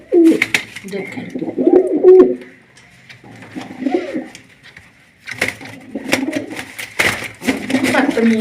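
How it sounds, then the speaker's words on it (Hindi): White pigeons coo and scuffle while fighting over a spot indoors, loud close throaty cooing in repeated bursts with flapping and knocking sounds between them. "आप भी इंजॉय कर लें इनकी कबूतरों की लड़ाई देख लें"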